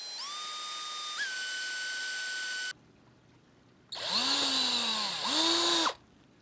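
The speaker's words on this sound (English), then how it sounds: "I'm gonna take an eighth inch drill bit and I'm gonna drill those holes" A power drill with an eighth-inch bit bores holes while a Trail Tech Endurance II is being installed, two close, loud bursts of steady whine separated by a pause, the second rising and dipping in pitch as the bit bites.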